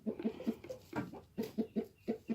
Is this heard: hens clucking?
yes